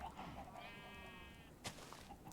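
A sheep from the game Minecraft gives a single quavering bleat, faint and soft beneath quiet background sound.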